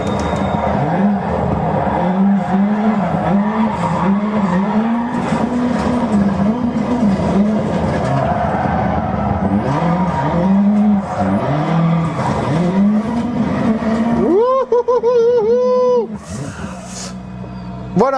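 A rally car in the Dirt Rally video game revs loudly in repeated rising and falling surges, with tyres skidding through corners, and the engine note briefly drops away near the end.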